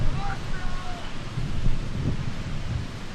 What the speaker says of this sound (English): The wind coming in a big strong gust